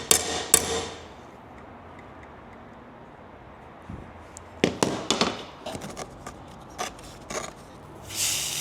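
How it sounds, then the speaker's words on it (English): A couple of sharp hammer strikes on red-hot metal ring out, then after a quiet stretch a flurry of quick metallic blows, close and loud, with a final hiss. "Take the hammer and see if I can't just"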